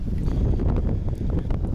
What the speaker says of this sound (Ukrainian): Вітер страшенний просто